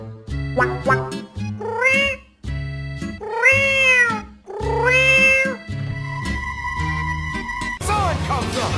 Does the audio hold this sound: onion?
no